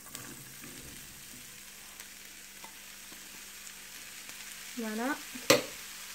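Leeks fry in butter and oil in a pan with a soft, steady sizzle that runs throughout, and a few utensil clinks near the end. A voice speaks briefly.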